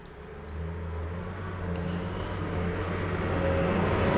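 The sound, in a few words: passing road traffic outside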